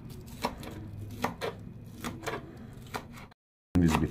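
Quick knife chops of parsley on a cutting board, a handful of crisp taps in a loose rhythm, close by, then a brief silence.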